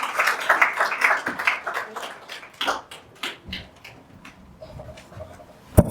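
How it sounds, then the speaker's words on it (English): A small seminar audience claps for a speaker, scattered individual hand claps that start fairly close and busy, then thin out and fade toward the end, with no talking. "So a big round of applause for our speaker tonight, Hall Greenland."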